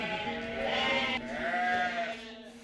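Sheep on a British farm bleat loudly and close by, two long wavering calls running back to back and filling the whole moment.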